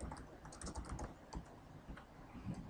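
Soft, quick keyboard taps from typing an essay title into gradebook software, faint and spread evenly through the moment over a low background hum, with no voice.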